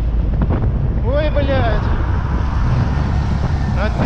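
Strong wind buffets a microphone out on a city street, a constant loud low rumble running the whole time, with a voice briefly rising over it.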